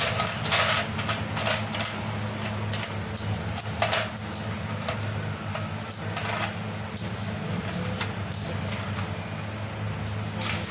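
Coins being counted from a day's halo-halo sales, with scattered metallic clinks and small drops at close range over a steady low hum, continuing throughout.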